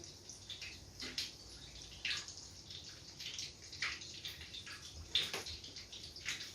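Water from a bottle is poured into a cooking pot while making barberry rice with chicken, giving soft intermittent splashes and trickles, fairly quiet and with no talking.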